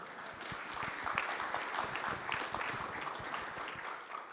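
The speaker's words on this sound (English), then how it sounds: "Yes, feel free to clap." An audience at a political conference claps in a scattered, moderately quiet patter of individual hand claps that stays fairly even for a few seconds, with no speech over it.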